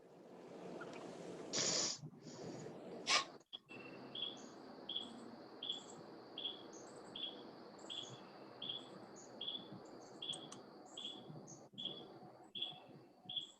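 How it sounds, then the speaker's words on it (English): Crickets chirp steadily in the background of a municipal board of safety meeting call, a faint, evenly spaced pulse of chirps repeating about every second with no talk over them. "While we have crickets in the background"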